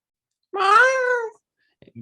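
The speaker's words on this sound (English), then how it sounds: "that is my cat Yoshi hollering from the bedroom" A pet cat meows loudly from a bedroom in one drawn-out, rising and falling call, followed by a short faint noise and then quiet.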